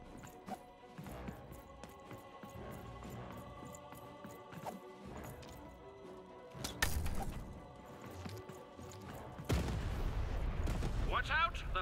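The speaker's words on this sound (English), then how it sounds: "button to fire the cannon." Cannon fire in the Lost in Random video game, heard as heavy booming blasts and crashing impacts over a busy game soundtrack, with the loudest hits clustered in the second half.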